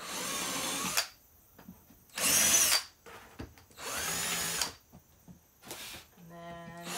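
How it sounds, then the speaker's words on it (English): A power drill bores pilot holes into a water-damaged camper floor during an RV renovation, in four separate close, loud bursts with quiet pauses between them. "And then I like to drill some pilot holes first."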